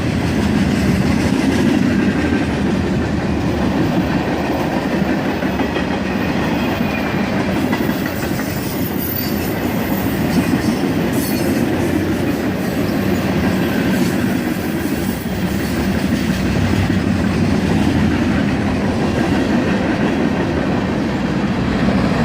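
Loud, steady rumble and rhythmic clickety-clack of a passing CSX freight train, including new cars and a small cut of wood cars, heard close by outdoors on a hot summer day, continuous with faint wheel squeal throughout.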